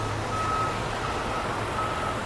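A big truck backs up on a New York street, its reversing alarm beeping steadily in repeated tones over a constant wash of engine and city traffic noise.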